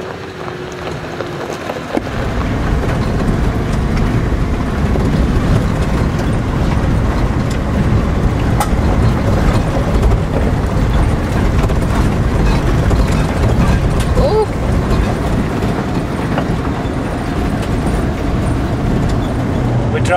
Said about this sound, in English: We're driving down the Great Northern Highway through the centre of Western Australia